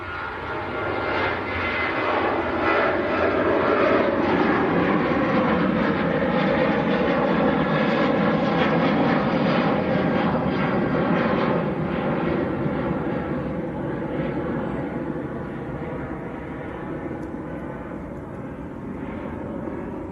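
A Jet2 Boeing 757, G-LSAJ, on its takeoff roll and rotation at Manchester Airport, bound for Antalya; loud, sustained engine roar with layered whining tones, swelling and holding before easing slightly as it climbs away, no talk.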